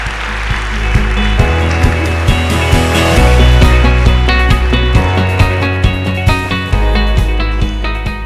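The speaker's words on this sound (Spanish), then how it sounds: "Un aplauso, por favor." An audience at a hematology lecture claps steadily for several seconds, the applause dense and sustained, mixed with a low rumbling background.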